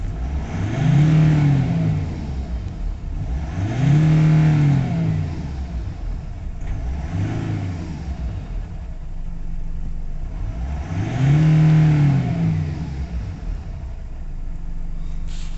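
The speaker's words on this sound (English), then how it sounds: "Let's see if we can start it up and get full revs at a minute." A Nissan Navara D40 2.5 dCi diesel pickup engine revs up hard four times, each rise and fall repeating in steady cycles, loud and close with no talking.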